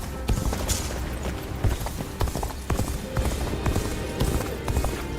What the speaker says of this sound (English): One day while on a march, Lord Cao Cao's horse suddenly started to act up.